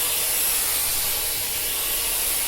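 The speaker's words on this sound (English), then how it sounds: "just take hold of my spray and I'm just going to start by doing the sides." Glaze is sprayed in a steady, close, continuous hiss onto the sides of a decorated chocolate shoe, with no talking.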